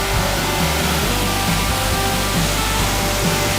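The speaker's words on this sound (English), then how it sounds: "We're at our next waterfall now." A waterfall about 20 to 25 feet tall in Panthertown Valley pours into tea-colored water, giving a steady, close, full roar of rushing water that holds level throughout with no speech.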